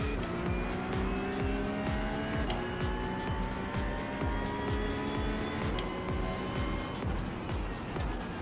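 A Porsche Cup race car in a racing video game at Hockenheim drones loudly and steadily, its engine note rising and falling with gear changes while brief tire squeals cut through.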